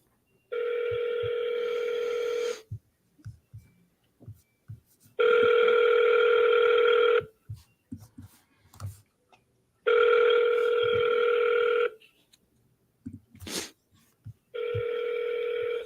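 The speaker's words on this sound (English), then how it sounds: "Let's give him a call back." An outgoing phone call rings four times, each a steady two-second electronic tone separated by silence, with faint clicks and background noise in the gaps.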